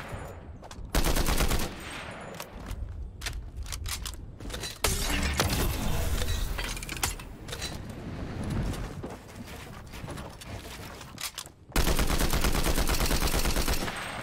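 Assault rifle gunfire in a first-person shooter video game, dense bursts of rapid shots mixed with game effects, loud and sustained throughout with a brief lull near the end.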